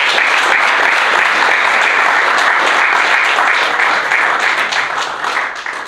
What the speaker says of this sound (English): let's give him a big round of applause as he comes